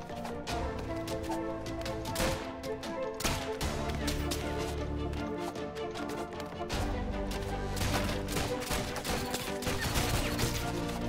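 Repeated gunshots in the video game ROUNDS, a rapid string of sharp cracks layered over a busy game soundtrack, steady and fairly loud throughout.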